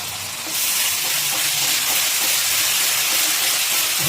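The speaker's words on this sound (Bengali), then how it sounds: "আর এই সময় তো আমি দিয়ে দিচ্ছি এই যে আদা রসুন কাঁচা লঙ্কা আর শুকনো লঙ্কা বাটা" Ginger, garlic, green chilli and dried chilli paste hits hot oil with browned onions for a chicken curry over a high gas flame, bursting into a loud, steady sizzle that holds for several seconds with no talk.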